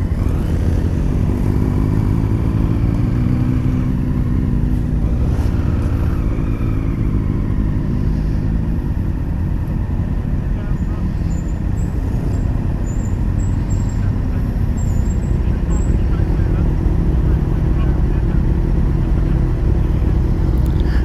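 Honda Africa Twin motorcycle ridden on a run in Wales, its engine droning loud and steady throughout with a continuous rumble and wind roar, close up and alone without talk.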